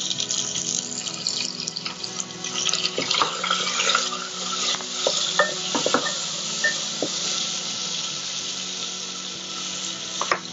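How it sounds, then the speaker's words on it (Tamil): Shallots, green chilies and a small tomato sautéing in oil for a mango ginger pachadi, a soft continuous sizzle with scattered stirring scrapes and clinks from a spoon in the pan. "சின்ன வெங்காயம் கட் பண்ணி போட்டுட்டாங்க. அதோட பச்சை மிளகாய் சேர்த்து வதக்கிட்டு இருக்காங்க."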